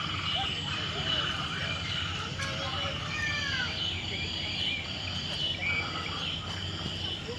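Frogs croak in a dense outdoor chorus mixed with cricket and insect chirring at a light show park, a steady, loud background bed with voices faintly present.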